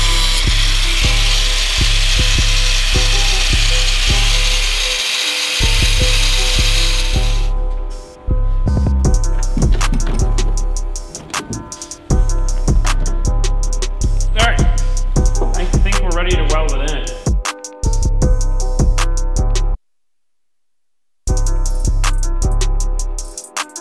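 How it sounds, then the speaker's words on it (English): A power tool trims plastic under a seat in an NA Miata, loud and close, running in bursts of rough cutting and rubbing separated by short pauses and one longer silence. "Now I'm gonna go ahead and trim this plastic."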